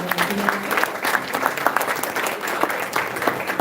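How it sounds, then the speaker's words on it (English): An audience at an awards event honoring guidance counselors applauds loudly and continuously, a full, even clatter of many hands with no talk over it. "a big round of applause"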